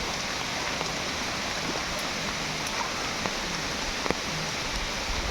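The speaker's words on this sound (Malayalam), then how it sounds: "ഒടുക്കത്തെ മഴയും കാറ്റും" Heavy rain pours steadily with strong wind in a forest, a dense unbroken wash of noise holding level throughout, with a few faint drips and taps on top and no voices.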